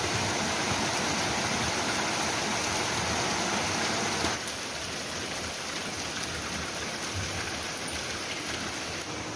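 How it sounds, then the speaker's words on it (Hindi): Heavy rain pours down outdoors in a steady, dense hiss that fills the whole stretch. It eases slightly partway through but keeps falling without a break. "अचानक से पीट के बारिश शुरू हो गई है"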